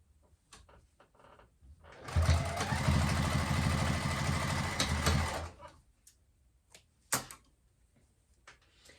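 A sewing machine stitches along the edges of a fabric pint cozy in one continuous run of about three seconds, a fast steady mechanical whir, with soft handling clicks before and after.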